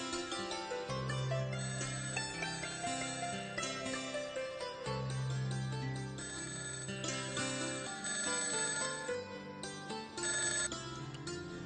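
A telephone rings with a continuous melodic ringtone, loud and steady for over ten seconds with no talk over it.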